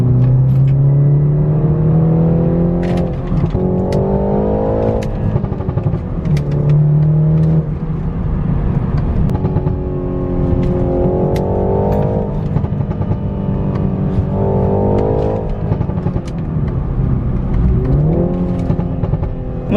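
BMW 330i in sport mode giving a steady, loud engine drone with repeated rising revs and shifts as the car accelerates, throaty and continuous throughout with no talking.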